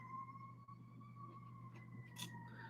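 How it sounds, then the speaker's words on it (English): A siren from an ambulance passing outside wails steadily and faintly in the distance, its rising and falling tone carrying through the whole stretch with no talk over it. "I don't know if you can probably hear the"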